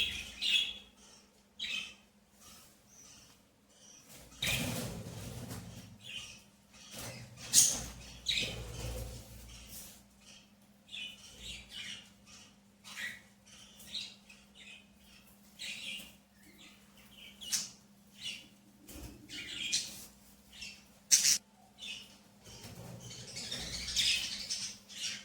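Caged birds give sharp squawks and chirps in scattered bursts while being caught, with rustling and cage clatter between calls and no talking.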